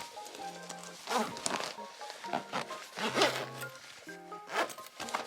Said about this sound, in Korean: 지퍼까지 이렇게 싹 잘 잠겼습니다.